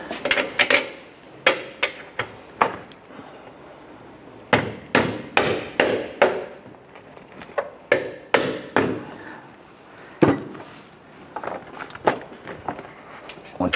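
A dead blow hammer taps a control arm bushing into the chassis of a 2006–2013 Chevrolet Impala, with dull close knocks coming in short uneven clusters while someone talks between the strikes.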